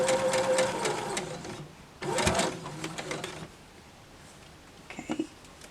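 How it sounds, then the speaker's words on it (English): Sewing machine stitching a quilt block, running in a couple of short rapid bursts with brief pauses, then a few faint clicks near the end, close and clear with no talk. "back tack a few stitches, 3 stitches, and then continue on sewing"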